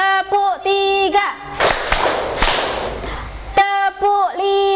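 A standing group claps hands together in counted patterns, a burst of sharp, crowded claps set between stretches of a sung, drawn-out voice calling the count.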